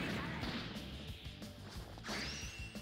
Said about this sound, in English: Special beam cannon!